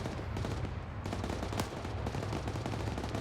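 A vehicle gunner fires in the ARMA 3 military video game, sending a dense, continuous stream of rapid automatic shots over rumbling vehicle noise, loud and close throughout, with no talking.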